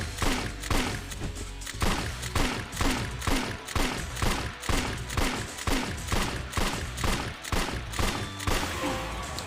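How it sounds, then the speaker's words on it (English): Rapid, evenly spaced gunfire bursts from the Yakuza video game series, loud and close, repeating steadily without pause and with no talk over them. "So you have to shoot Kazuma there with 3 shots before you shoot him with a full revolver"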